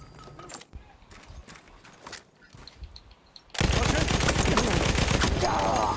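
Horse galloping amid heavy gunfire in the video game Battlefield 1, a loud burst of rapid shots and hooves suddenly erupting after quieter battle noise and scattered sounds.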